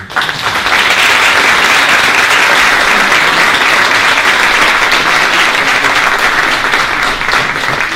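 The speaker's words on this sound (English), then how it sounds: "we've heard 3 candidates tonight. Let's have a round of applause." Loud, dense applause at a county candidates' forum, a large room of people clapping continuously and evenly, close and full, with no talk over it.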